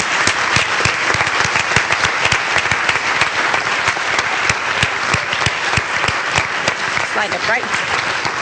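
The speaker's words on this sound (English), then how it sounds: "let's give them a round of applause" An audience at the Golden Bishop Award ceremony breaks into loud, sustained applause, a dense crowd of hand claps filling the room while a voice speaks briefly over it.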